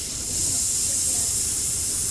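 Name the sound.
cold liquid spraying out of a released pressure valve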